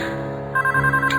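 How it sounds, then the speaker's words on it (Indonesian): A telephone rings in a room with a steady electronic ringtone of high, sustained tones, close and alone with no voices. "Ada suara telepon berbunyi di kamar itu."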